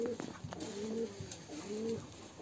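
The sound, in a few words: high flyer pigeons cooing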